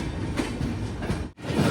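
Poorna Express rolling out of Madgaon toward Karwar, heard from inside a sleeper-class coach as a loud, steady rumble with faint rhythmic wheel clatter and one brief dip in the noise.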